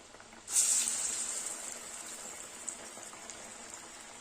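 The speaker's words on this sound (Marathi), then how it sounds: "गरमागरम तेलामध्ये आपण हा वडा सोडणार आहोत" Mung dal vada dropped into hot oil give a sudden loud sizzle that bursts up and then settles into a steady hissing fry, with no talking.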